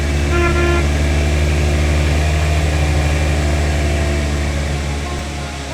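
A car in the video game Panley Starable 3 sounds a loud, sustained horn toot over a steady engine drone that fades slightly toward the end, with no voices.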